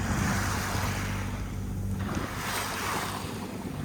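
A sailboat motors on the open ocean under engine power, with a steady low engine hum beneath broad wash of waves and wind buffeting the microphone, continuous and fairly faint.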